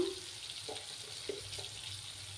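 Ground cumin and coriander fry in a pan with a soft, steady sizzle, joined by a few light stirring scrapes.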